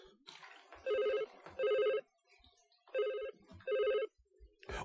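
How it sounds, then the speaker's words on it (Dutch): An old-fashioned telephone bell rings in four even bursts, each about a third of a second long with short pauses between, clear and fairly loud in a quiet room. "Je staat net bovenop de trap, gaat de telefoon."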